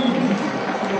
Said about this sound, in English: he's asking for support from the stands. And the crowd pull together.